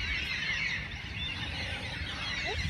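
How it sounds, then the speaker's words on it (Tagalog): Many birds call together at an apple farm, forming a continuous, busy chorus of chirps at moderate distance with no breaks. "Ingay ng mga ibon, dami."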